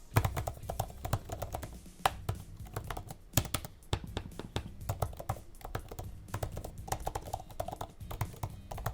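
Typing on an Apple Magic Keyboard for iPad: a steady run of close, soft keystroke clicks with a muted thud, irregular in rhythm and continuing throughout with no talking.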